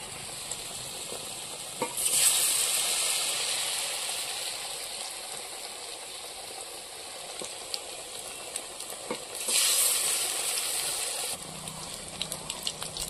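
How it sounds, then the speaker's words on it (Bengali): Eggplant slices coated in a thick besan batter frying in hot oil, giving a steady crackling sizzle that surges loudly twice as pieces drop in, with a few faint clicks and no talk. "এটা এখন এই ব্যাটারের মধ্যে আমি এইভাবে চুবিয়ে তারপরে তেলে ছেড়ে দেব"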